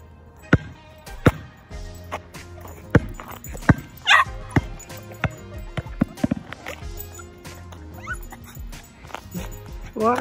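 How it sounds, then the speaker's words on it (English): A dog barks in sharp, repeated bursts outdoors, several loud yaps spaced irregularly through the scene amid a busy background with other animal and outdoor sounds. "Why are you barking?"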